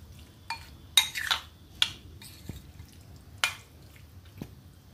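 Chicken keema being mixed with a spoonful of honey in a dish, a few soft scattered clinks and scrapes of a spoon against the dish, quiet and close with gaps between strokes.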